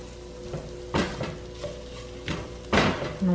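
Garlic and flour being stirred in a pot for gnocchi and chicken soup, a few scraping clatters of a utensil against the pot over a soft sizzle, with irregular bursts.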